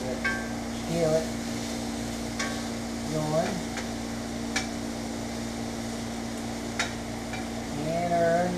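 Onions frying in rendered fat in a skillet, a steady low sizzle with intermittent utensil taps and scrapes against the pan, a constant hum underneath and brief speech-like sounds.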